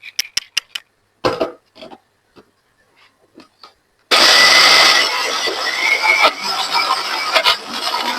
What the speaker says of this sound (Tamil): இப்ப நாங்கள் மூடி அரைச்சு எடுத்துக்கொள்ளுவோம்